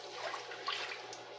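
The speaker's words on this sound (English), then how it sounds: "let's pour in the milk" Milk pouring into a pan for scalloped potatoes, a steady soft liquid stream running throughout at moderate level, close by with no talking.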